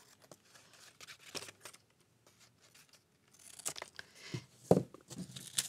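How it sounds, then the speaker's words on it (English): Scissors trim paper for a Norwegian flag craft. Sparse, faint snips and crinkles come in small bursts with a quiet pause, then a livelier cluster of cutting and paper handling. "Now I'm going to take my scissors and I'm going to trim this off."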